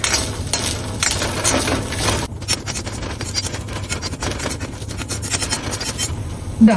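Dry scraping and stirring in a pan, a rasping rhythm of a utensil moving spices roasting for Kerala-style sambar, close and steady.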